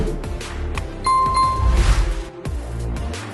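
A short bright bell ding rings out once over a busy background of other sounds.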